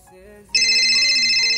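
A phone rings with a loud, sustained electronic ringtone that begins abruptly after a quieter moment and continues to the end.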